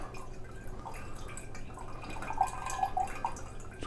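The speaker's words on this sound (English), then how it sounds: "to allow the water to drain" Quiet, irregular dripping and trickling of water draining from churned butter, small plinks and splashes over a soft background hiss.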